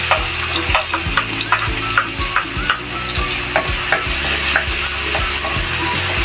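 Garlic dropped into a hot pan (kawali) for sautéed bitter gourd sizzles loudly and steadily, with repeated scraping clicks of a stirring utensil against the metal throughout.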